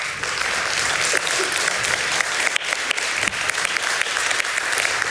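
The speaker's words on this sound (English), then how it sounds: "Please give her a really warm applause" Warm audience applause at a film festival interview event honoring director Agnieszka Holland, a dense, steady wash of many hands clapping that fills the room at a constant level for several seconds.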